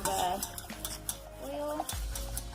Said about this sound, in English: I'm going to give it a quick stir to just melt those last little bit of